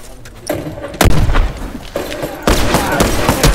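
Bursts of gunfire and heavy booms in The Last of Us multiplayer match, loud and dense, with sharp onsets, then sustained rapid shooting and explosions.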